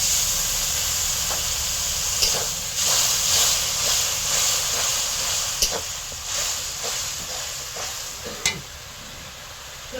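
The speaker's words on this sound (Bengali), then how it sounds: "একটু জল দিয়ে মশলাটাকে আরেকবার একটু ভাজবো" Spice paste frying in a pan with a splash of water, a steady close sizzle and hiss broken by occasional sharp scraping stirs, no voices.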